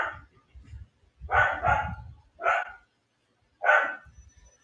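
A dog barks several times nearby in a home, short sharp barks in uneven bursts with brief pauses between them, no talking over it.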